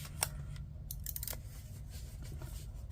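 Scissors snip through excess paper while a planner is being trimmed, with several crisp, close cuts and light paper rustling over a steady low room hum.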